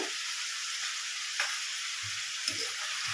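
Tomato, coconut and turmeric sautéing in a pan for kara chutney, a steady close sizzle and hiss with occasional soft stirring scrapes and clinks.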